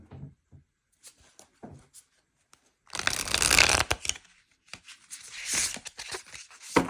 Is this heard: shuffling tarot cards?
yes